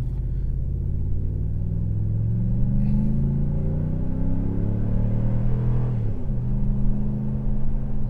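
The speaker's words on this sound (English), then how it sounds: "I'm going to go full throttle." Truck accelerating at full throttle from a dead stop, a loud engine roar climbing steadily in pitch, then a quick drop as it shifts and pulls again, close and continuous.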